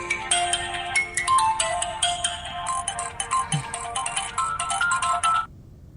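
A telephone ringtone rings loudly for about five seconds, a bright repeating electronic melody with rapid pulsing notes, then cuts off abruptly, in a dubbed drama scene.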